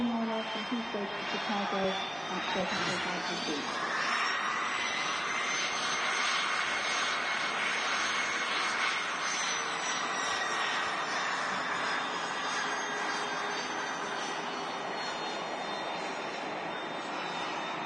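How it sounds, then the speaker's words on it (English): An Airbus A330-300 with CF6 jet engines roars at Manchester Airport, a loud, sustained engine rumble and whine that holds steady across the whole stretch with a slowly shifting pitch and a voice talking over it. "CF6 engines on board this A330-300. Probably the loudest engines we'll hear on a jet engine."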